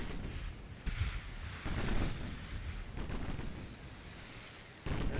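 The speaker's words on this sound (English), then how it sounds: "There goes more torpedoes." Heavy booming launches fire off in a naval battle game, a few separate deep blasts over a steady low rumble of combat.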